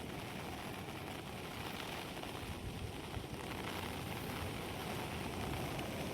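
Steady, heavy rain pours down over farmland in a constant dense hiss, faint and even throughout, with no voices.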